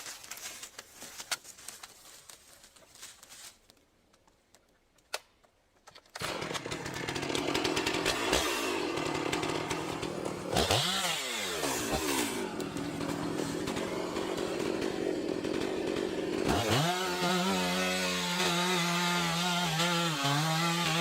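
Sparse taps and quiet rustling give way to a loud chainsaw cutting into a 600-year-old tree, the engine droning steadily, then rising and dipping in pitch as the bar bites and the throttle changes, close and continuous.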